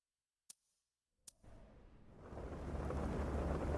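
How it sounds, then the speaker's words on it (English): Snow or sleet falling outside, a steady rain-like hiss and patter that swells in after two sharp clicks and grows louder and denser toward the end, with no talk. "I can just hear the rainfall. Well, it's not really rain, it's actually snow."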